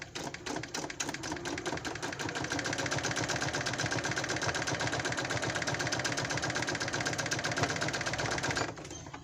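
A Janome sewing machine stitches piping cord onto a pillow cover, a fast, steady mechanical rattle running close and loud for about eight seconds before stopping.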